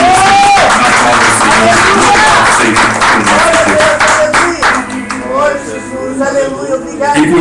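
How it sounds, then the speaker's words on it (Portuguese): Church congregation clapping in praise during a worship service, loud rhythmic hand claps mixed with voices, cheering and a sung or sustained tone, the clapping dense at first then becoming sparser and quieter in the second half. "E assim, Senhor, nós te aplaudimos."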